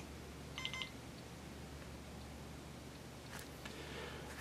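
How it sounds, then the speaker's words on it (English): A short double electronic beep from a receiver connecting to its transmitter, brief and fairly faint, over a steady low hum, followed by soft rustling. "the receiver will give a double beep to let you know that it is connected to the transmitter"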